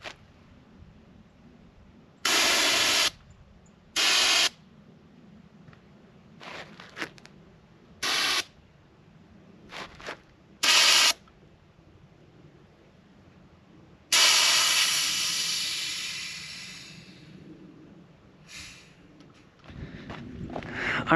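Outdoors at a camp, a spray canister with roughly a 33-foot range discharges in several short hissing bursts, then one long blast that slowly fades, all over quiet background noise.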